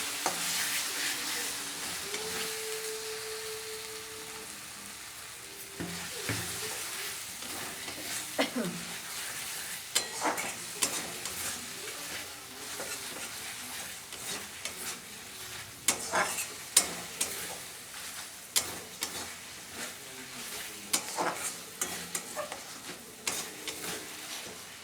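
Chicken curry with a splash of Kashmiri chili paste stirred in a hot pan: a steady close sizzle broken by repeated scraping clicks of the spoon, growing sharper toward the end, with no voices.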